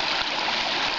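Mountain creek water rushing along a hiking trail, a steady broadband wash of flowing water, close and continuous.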